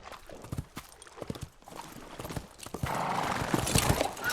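Horse in the video game Western Rye clip-clopping with irregular hoof thuds, then a loud whinny in the second half, close and clear over faint game ambience.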